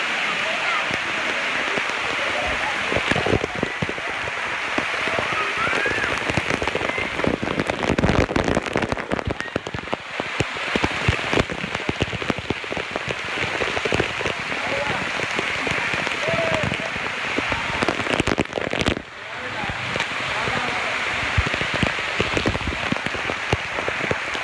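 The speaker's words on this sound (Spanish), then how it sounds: "ahí estamos llegando a una super cascada" A continuous roar of a waterfall at a park in Cancun, loud and close, with a constant hissing spray; speech is faintly mixed in.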